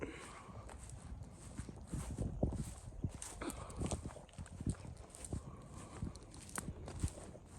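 Horses walk with a soft, irregular clip-clop of hooves over faint wind noise, fairly close and steady throughout.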